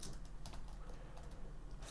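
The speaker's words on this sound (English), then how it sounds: "Sorry for my typing," Quiet computer keyboard typing, a steady patter of soft key clicks through under two seconds, close and low in level, with no voices.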